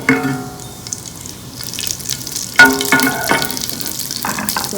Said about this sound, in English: I will add cumin, so it can be fried with the cumin